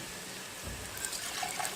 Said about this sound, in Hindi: इसके अंदर हम डालेंगे पानी।